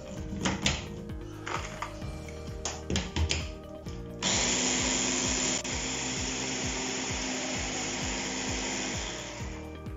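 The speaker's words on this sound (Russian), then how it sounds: "И все это удовольствие перемешиваем в блендере." A blender whirs loudly and continuously as it mixes a drink containing a couple of chicken eggs, after a few seconds of clattering and handling sounds; the motor runs steadily to the end.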